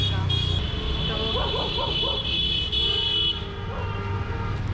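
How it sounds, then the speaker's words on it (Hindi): Car horns honk in evening traffic in Kashmir, sustained bright tones blaring loudly and overlapping amid road noise, with voices faintly underneath. "मुझे ना एक और चीज़ नहीं पसंद है जो अननेसेसरी हॉर्न बजाते हैं।"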